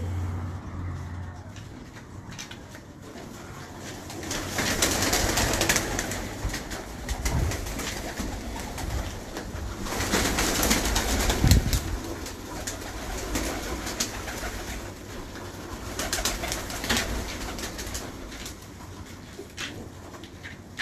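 Sialkoti pigeons coo steadily among a flock, with low murmuring calls repeating over about twenty seconds against a faint background of traffic.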